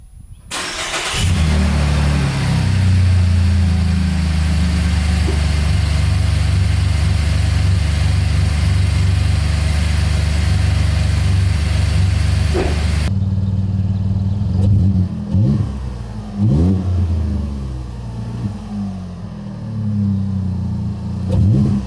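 A Chevrolet Colorado ZR2 with an aftermarket intake and exhaust cranks and fires up, then holds a loud, steady idle up close before settling into a quieter idle broken by several quick throttle blips.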